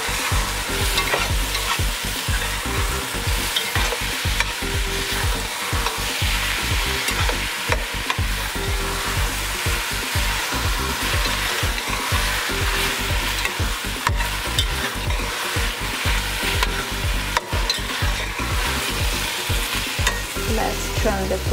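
Chopped pineapple, about four cups, is stirred in a sizzling pan while cooking yellowtail snapper, a loud constant frying hiss with rhythmic scraping and knocking from the spoon throughout, close up and without speech.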